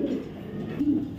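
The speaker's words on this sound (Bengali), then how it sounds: "এটা হচ্ছে একটা নর কবুতর" A male racing pigeon of a named bloodline coos softly and close by, with low throaty murmurs at the start and again near the end of a brief stretch.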